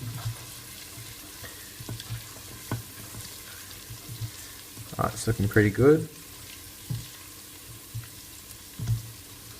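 Garlic sizzles in olive oil in a pan over low heat, a steady soft frying hiss with brief louder bubbling and stirring clatter partway through, while a person speaks briefly over it.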